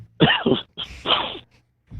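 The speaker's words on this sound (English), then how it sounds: "Oh God, this fucking cough." Two harsh, raspy coughs burst out close by, separated by a short pause, with a third starting at the very end.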